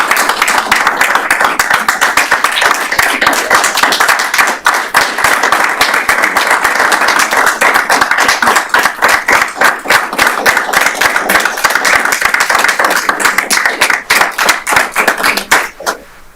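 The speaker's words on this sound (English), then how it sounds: "Let's give them a huge round of applause." Sustained, energetic clapping from the audience at a school board meeting fills the room for a long stretch, many hands beating fast and closely packed before fading out at the end.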